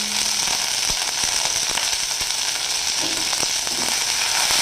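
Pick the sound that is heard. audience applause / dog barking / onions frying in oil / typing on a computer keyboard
onions frying in oil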